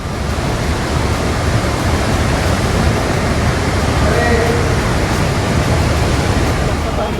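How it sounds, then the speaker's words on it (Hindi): Floodwater released from Gangapur dam rushes down the swollen Godavari river, making a loud, unbroken, close roar of turbulent water throughout. "पानी के बहाव की स्पीड को देखकर इसकी भयावहता का अंदाजा लगाया जा सकता है।"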